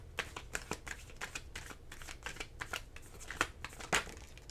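Deck of tarot cards being shuffled by hand, a rapid series of crisp riffling flicks and snaps, close and quiet, with no talk.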